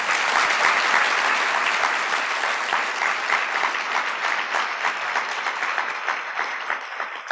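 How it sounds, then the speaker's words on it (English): A seated audience at a housing forecast panel discussion in Wichita gives panelists steady, dense applause, continuous and close throughout with no talk over it. "would you please give our panelists a round of applause?"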